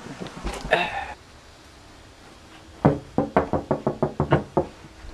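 Someone knocks on a door, a fast run of about ten sharp, loud raps in a steady rhythm, preceded by a brief muffled thump and a short pause.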